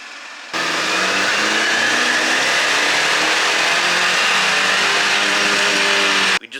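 A JB4-tuned Chevy Silverado's engine revs hard on a dyno while running E20 ethanol fuel, a loud sustained roar with rising harmonics that holds steady for about six seconds, then cuts off abruptly.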